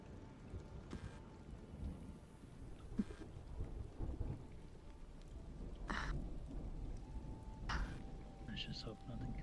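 Steady rain and rumbling thunder fill the nighttime weather of a fantasy roleplay video game, a constant wash of downpour with occasional swells, and faint voices may sit beneath it.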